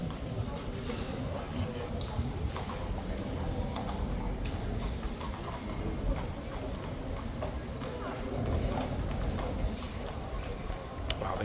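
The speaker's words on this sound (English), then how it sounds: "the two horses come in at exactly the same moment" Horses' hooves clip-clop through the gate at Horse Guards as two horses enter together, a steady scatter of hoof strikes under constant crowd chatter and nearby voices.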